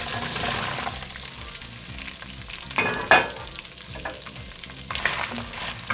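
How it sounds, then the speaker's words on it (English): Shallots sizzling and frying in melted butter in a pot for a French beef stew, a steady close crackle with a brief sharper spatter as they are stirred. "now we're just gonna add in these shallots"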